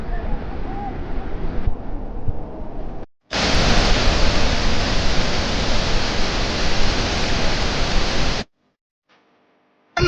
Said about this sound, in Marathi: अतिशय सुंदर असा निसर्गात लपलेला वसुंधरा वॉटरफॉल खूप छान आहे